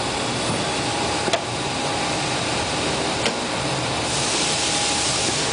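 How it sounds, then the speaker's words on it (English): A vacuum pick head on a Generation 5 Royal Master CNC centerless grinder reloads a guidewire, giving a steady, loud airy whoosh over machine hum, broken by two sharp clicks and a brighter hiss near the end. "then it will reload another wire using the vacuum pick head"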